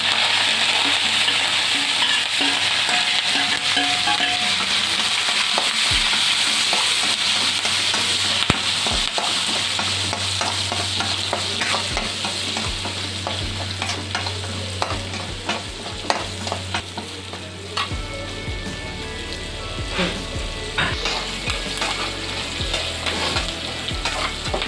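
Green chilli, ginger, garlic and curry leaves frying in hot oil for a Kerala-style fish pickle, a loud, dense sizzle with constant crackling and spitting pops throughout, close up and without talk.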